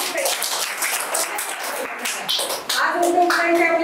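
A group at a yoga training camp claps hard and fast, dense overlapping claps that keep going under a voice that comes in near the end.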